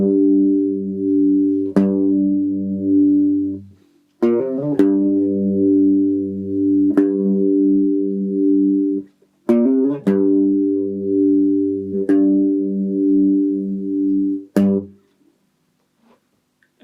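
A distorted electric guitar plays the slow closing riff of a song, with sustained repeated notes, short slides and picked attacks, repeated twice before ending in silence.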